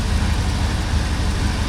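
A Buick's engine idles steadily after repair work, a dense low rumble with an even, continuous texture throughout, close and moderately loud with no talking.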